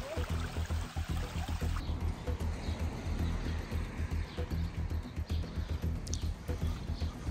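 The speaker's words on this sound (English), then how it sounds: "Yet again, another river to pass." Rushing water from a river crossing on the Camino del Norte coastal route in Asturias, a continuous broadband wash close by, with scattered splashes, footsteps and knocks over it.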